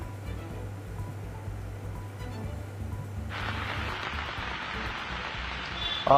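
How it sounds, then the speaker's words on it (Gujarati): Early-morning rain falls across Rajkot city, a steady broadband hiss that swells noticeably louder partway through over a low background hum. "રાજકોટ શહેરમાં આજે વહેલી સવારથી વરસાદ વરસી રહ્યો છે"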